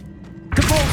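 A summoning spell from Hogwarts Legacy yanks an object toward the caster, a sudden dense whoosh-and-thunk arriving halfway through after a quiet lead-in, loud and close with no talk.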